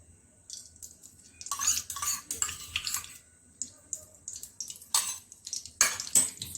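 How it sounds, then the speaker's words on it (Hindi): Steel pots and utensils clatter and clink repeatedly in a home kitchen while dhaniya panjiri is cooked with ghee and dry fruits, in irregular close bursts of scraping and knocking, with light water sounds between. "और इसे भी एक बर्तन में निकाल लेते हैं।"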